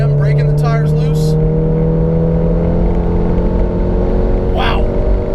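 A 400 HP RevoTechnik Stage 3 VW Mk7 GTI on a race track, its engine droning loud and steady at about 5,000 RPM from inside the cabin while the tires break loose; a voice is briefly heard over it.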